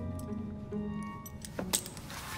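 Keys jingle and clink briefly as they are handed over in the Assassin's Creed Syndicate video game, a short metallic rattle near 1.6–1.8 seconds set over low game ambience and music.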